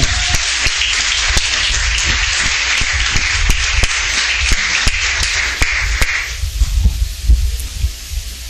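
A church crowd applauds steadily for several seconds at an evangelical service, dense clapping that thins toward the end, in a large room.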